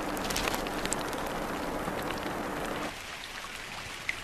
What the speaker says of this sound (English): That call comes with the first of the monsoon rains.